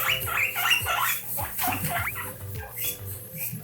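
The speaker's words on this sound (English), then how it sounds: "good squeaking definitely sounds a lot happier and excited" Guinea pigs squeak excitedly in quick repeated bursts, up close and busy, with faint shuffling underneath.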